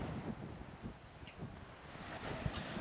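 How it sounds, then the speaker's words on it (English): Wind gusts buffet the microphone at the seaside on a blustery day, a rough, uneven low rumble with faint rustling over it and no voices. "But a bit windy today."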